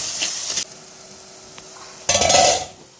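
Sliced onions sprinkled with salt fry in a pan for a sardine fish curry, loud bursts of sizzling and spoon scraping at the start and again near the end, with a quieter stretch between.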